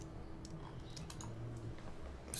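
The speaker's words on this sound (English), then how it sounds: "so you can see what I'm typing" Script being typed on a computer keyboard into a text editor, a run of quick, irregular soft key clicks at steady close range with no talk.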